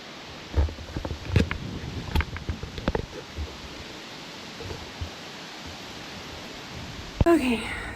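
Strong wind at the top of a lookout tower buffets the microphone, giving a low, rumbling roar broken by bursts of thumps and gusts, ending with a short sharp noise.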